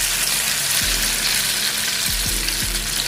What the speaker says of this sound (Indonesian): saya coba, saya goreng satu dulu ya